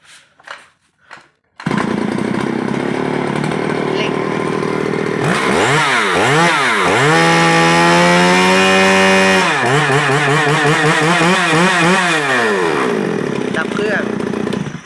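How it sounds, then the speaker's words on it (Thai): A few short, heavy pull-cord tugs, then a 36cc Shindaiwa 360 chainsaw catches and runs loudly, its engine revving up and down several times before idling back. "เลื่อยรุ่นเนี้ยมันจะดึงหนักอยู่แล้วเพราะมัน36ซีนะครับ"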